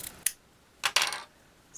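Scissors snip through ribbon tails of a bow, three or four crisp short metallic cuts with brief gaps, close and clear in a quiet room.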